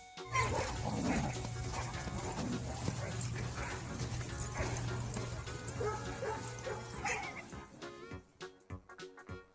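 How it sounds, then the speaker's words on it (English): A dog barks repeatedly over a dense, busy backing of music in a children's alphabet phonics rhyme, the yelps fairly loud and continuous for most of the stretch before fading out near the end. "D for dog."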